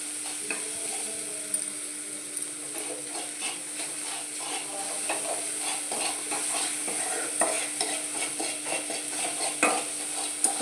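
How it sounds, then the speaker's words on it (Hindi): A spoon stirs spiced masala frying in oil in a kadhai for fried rice, giving a steady sizzle with repeated scraping and clinking against the pan and no one speaking. "जब तक तेल ना छोड़े तो तब तक ऐसे घुमाते रहना है ताकि वो कढ़ाई पे लगे ना"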